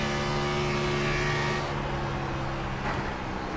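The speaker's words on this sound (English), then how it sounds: "you can hear as well just how much they're having to play with the throttle" A NASCAR Cup Series car in a racing game at Charlotte Motor Speedway drones loudly as the throttle is worked, its engine tone holding steady and then shifting pitch as it lifts and picks up again.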